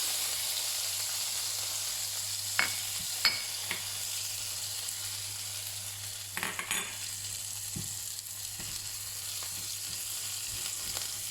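Sucuk, Turkish sausage, fries in a pan with a steady close sizzling hiss and scattered sharp pops and crackles throughout.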